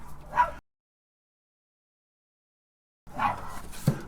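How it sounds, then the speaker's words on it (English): A dog barks indoors near an electronics workbench, two short loud bursts separated by about two and a half seconds of silence, the second with a sharp yelp at its end. "Sorry about the barking dog."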